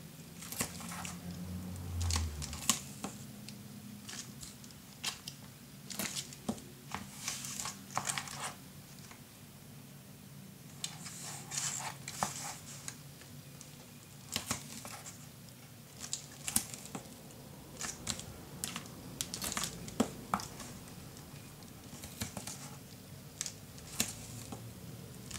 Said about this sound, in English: But we're just putting tape on the inside